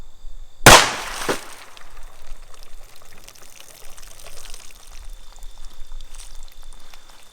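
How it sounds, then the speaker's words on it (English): A single sharp gunshot from a .38 Special 158 grain Remington lead semi-wadcutter hollow point +P round fired into water jugs, a loud near crack followed by a brief echo and quiet ambient hiss. "One round from the 158 grain Remington lead semi-wad cutter hollow point plus P."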